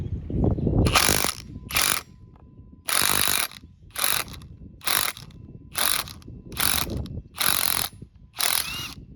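A power tool removes the power steering pump pulley on a 2007 Cadillac DTS, firing in about nine loud, rapid bursts separated by short quiet gaps, with no talking.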